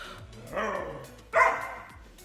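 Dog barking indoors at home: two sharp barks about a second apart, moderately loud over a steady background hum.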